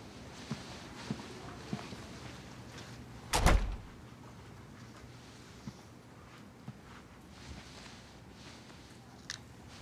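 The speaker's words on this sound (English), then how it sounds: "Close the door on the way out." A door swings shut with a single solid thud in a quiet room, briefly loud against a low background with a few faint taps and shuffles around it.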